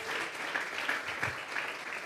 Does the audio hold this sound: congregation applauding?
yes